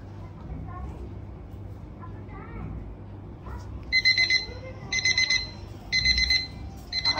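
An alarm clock rings in a household scene from a Tamil comedy skit. Bursts of electronic beeping start partway through and repeat in steady clusters over a murmur of background noise.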